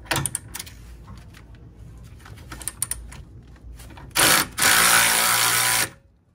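A hand tool works the control arm bushing bolts on a BMW E39, starting with rapid clicking and ratcheting and then giving way to two loud, sustained mechanical whirring bursts that stop abruptly.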